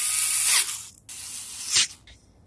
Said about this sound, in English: the little screwdriver can only do so much